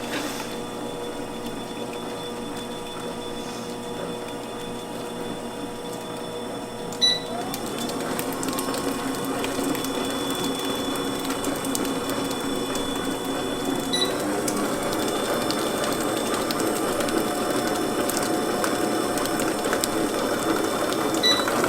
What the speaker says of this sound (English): We're gonna mix this on low, and then we're gonna mix it on high to get it light and fluffy again.